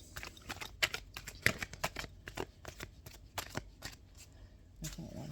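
Tarot cards are shuffled in quick, irregular bursts of close papery riffles and slaps, one after another across the whole stretch, fairly quiet and close.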